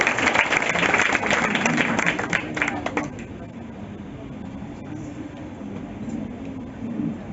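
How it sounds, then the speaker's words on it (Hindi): Audience applauding at a celebration for students selected for the Bihar Police: dense, loud clapping for about three seconds that then thins into a quieter room murmur with some voices. "ताली रुकनी नहीं चाहिए"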